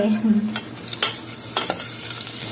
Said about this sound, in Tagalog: At syempre itong ating sibuyas. Ayan. Kailangan natin siyang igisa ng mabuti.